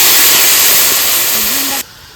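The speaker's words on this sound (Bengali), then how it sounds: "কষানো হয়ে গেছে, এখন জল দিয়ে দেবো।" Water poured into a hot pan of frying potato and pointed gourd sets off a loud, steady sizzling hiss that runs close and continuous, then cuts off abruptly near the end.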